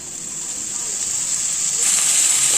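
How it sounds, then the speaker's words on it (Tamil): Onion and tomato sauté in hot oil for a crab pepper gravy, giving a steady close sizzling hiss that swells louder toward the end, with no talking. "அதனால் இதெல்லாம் நல்லா வதக்கிக்கலாம்"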